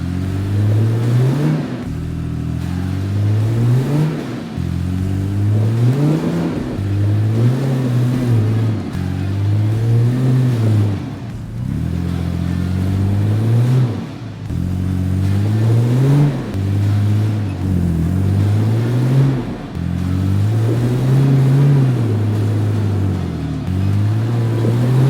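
A Nissan Patrol 4WD's engine revs repeatedly in rising and falling surges while it climbs a steep track near Coffs Harbour, the note climbing and dropping in a regular cycle, loud and close, with no talking.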